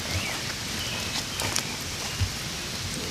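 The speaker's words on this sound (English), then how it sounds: "It's starting to sprinkle now." Light rain sprinkling onto a canopy at an Indiana campsite, a soft steady patter with a few louder drops, close by and without talk.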